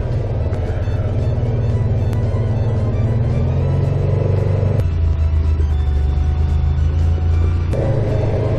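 A UTV engine rumbles steadily up close while the machine crawls over a rough, rocky trail, with a continuous loud drone, shifting pitch as the throttle changes and occasional knocks from the terrain.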